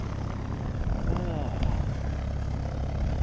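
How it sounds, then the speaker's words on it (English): A departing airplane at an aid-lift exercise drones as a steady, broadband engine rumble, moderately distant, holding level throughout with faint outdoor ambience and no clear talk. "Here's the last of our airplanes headed out."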